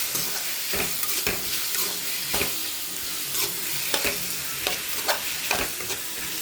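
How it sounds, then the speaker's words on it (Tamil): Spices and masala frying for Tamil-style egg thokku in a pan, steady close sizzle with regular scraping stirs every half second or so, no talking. "மிளகுத்தூள் போட்டுக்கலாம் மல்லித்தூள் போட்டுக்கலாம் கரம் மசாலா போட்டுக்கலாம் தனியாத்தூள் போட்டுக்கலாம் நல்லா வதக்கலாம்"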